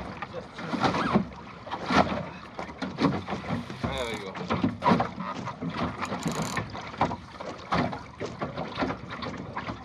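A small sailing dinghy with daggerboard and rudder moves through the water in light wind, giving a close, uneven mix of water splashing, lapping and rustling, with someone talking over it.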